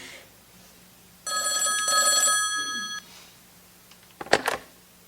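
An old-style telephone bell rings loudly and steadily for about two seconds, then stops, followed by a brief clatter of handling noise.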